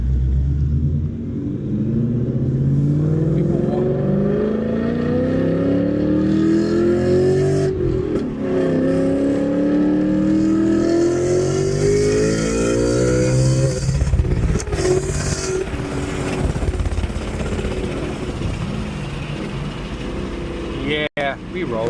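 A 2024 Mustang GT accelerates hard through the gears, its engine note climbing in repeated rising sweeps over a deep, loud exhaust rumble, close to the listener, with a voice faintly present.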